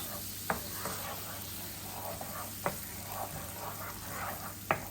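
Caramel with butter stirred in a pan: a steady soft sizzle and bubbling with gentle scraping, broken by three sharp utensil taps against the pan spaced a couple of seconds apart.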